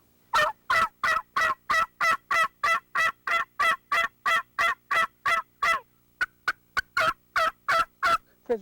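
Mouth call imitating an old hen turkey regrouping her flock: a long, steady run of loud, evenly spaced yelps, about twenty in a row, with a brief lighter stretch before the series resumes.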